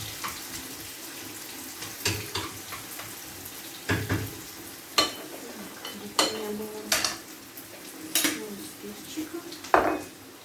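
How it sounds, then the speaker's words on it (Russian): Onion fries in a pan in a home kitchen, a steady low sizzle under scattered clinks and taps of utensils and dishes, with sharper knocks and scrapes every second or two. "Обжарим лучок."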